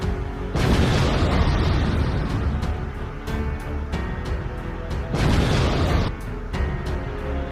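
A big cinematic explosion from the web series The Twist, two long roaring booming blasts with rumbling decay, loud and dense, separated by a brief lull.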